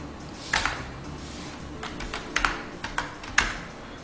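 Typing on a computer keyboard while entering order details into a KICKS (CICS) transaction screen on IBM MVS 3.8, with a scattering of close key clicks in small irregular bursts over a steady hum.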